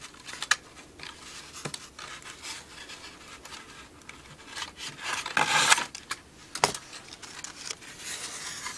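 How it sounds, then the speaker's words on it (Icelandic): A small hand saw cuts wood for a Kwik-fli Mk III model aircraft, giving quiet, irregular rasping strokes with scattered sharper scrapes and clicks between softer rubbing passes, close by and without speech. "Þá set ég sögina bara hérna á milli efri og neðri brúnar"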